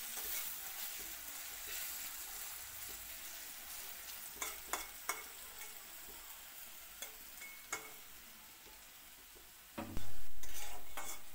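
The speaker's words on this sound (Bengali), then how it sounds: "ভালো করে লাল লাল করে ভাজা করা হইব।" Shredded potatoes with turmeric and salt sizzle steadily in a hot pan while a utensil stirs and scrapes, giving sharp intermittent clicks and a louder burst of frying near the end.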